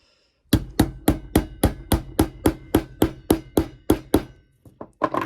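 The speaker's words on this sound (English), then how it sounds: "we can take our pliers and just hammer it on" A clock knob on a Westclox Spur Style 1 is hammered on with a pair of pliers: about fourteen sharp metallic taps in a steady, quick rhythm, loud and close, then a few softer knocks at the end.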